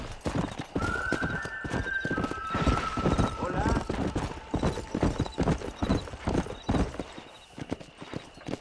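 A horse in the Western video game Red Dead Redemption gallops with rapid, steady clip-clop hoofbeats and gives a high neigh, while a voice speaks over the ride.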